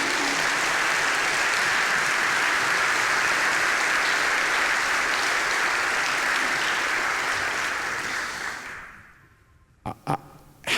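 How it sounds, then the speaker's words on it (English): An audience gives a warm round of applause at an evening talk, dense clapping held steady for about eight seconds before fading out, followed by a few isolated thumps. "Please give a round of applause for her work."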